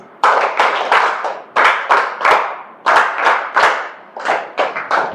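A standing audience at a school event for tenth-class exam students claps together in a patterned rhythm, sharp hand claps in short bursts of several beats with brief pauses between groups, loud and close with no voices.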